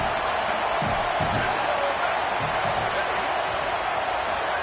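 A stadium crowd roars in a college football video game, a steady dense wash of cheering throughout, with a few muffled thumps early on.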